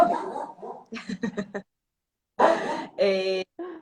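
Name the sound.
pet dog making noises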